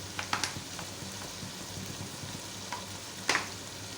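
Rice and vegetables fry with soy and chili sauce, giving a faint, steady sizzle broken by a few soft clicks and scrapes from stirring.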